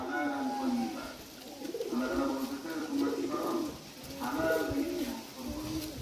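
Pakistani pigeons coo close by in repeated rolling phrases, several overlapping calls rising and falling over a steady background.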